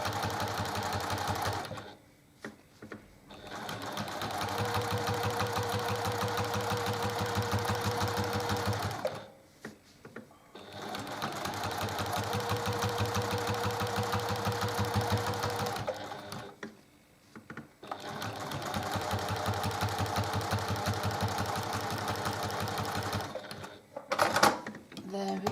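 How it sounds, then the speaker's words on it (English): Sewing machine with a walking foot stitching quilting in the ditch, fast continuous motor whirring in long runs broken by short pauses, with a sharper clatter near the end. "So this is my last row of quilting in the ditch."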